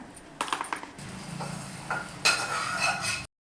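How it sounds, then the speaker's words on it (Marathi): Moong dal batter is stirred with salt and turmeric, the spoon clinking and scraping against the bowl in light, irregular taps and chinks, close and fairly quiet, before cutting to silence. "अर्धा चमचा मीठ आणि चिमूटभर हळद छान प्रकारे मिक्स करून घ्या"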